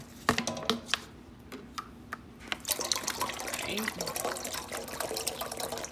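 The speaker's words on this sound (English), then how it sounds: "what you want to do is pour you some water in a saucepan" Water splashes and trickles steadily into a pan, preceded by a few clinks and taps, with a brief spoken word.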